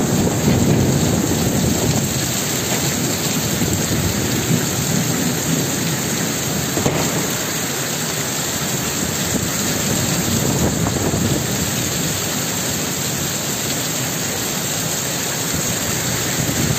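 Heavy thunderstorm from Cyclone Claudia in Kambalda, Western Australia, with loud, steady downpour drumming on surfaces and low rolling thunder rumbling underneath, continuous and close throughout.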